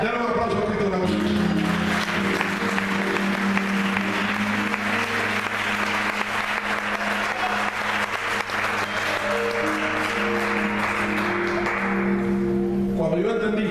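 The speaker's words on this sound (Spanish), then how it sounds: "Dale un aplauso a Cristo la música" Church congregation breaking into sustained applause, a dense wash of clapping that swells and continues for many seconds over sustained organ or keyboard chords, then tapers off.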